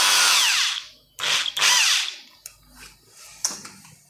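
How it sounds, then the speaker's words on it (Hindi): Power drill tightening a screw on a wardrobe sliding door fitting: a loud whining whir at first, then two more short bursts of drilling followed by quiet knocks and clicks. "यहाँ पर सेंटर में एक स्क्रू टाइट करेंगे हम"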